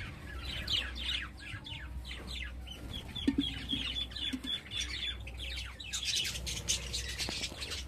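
A budgerigar breeding colony chirping, dense overlapping high chirps and squawky calls from many birds at once, fairly close and continuous without pause.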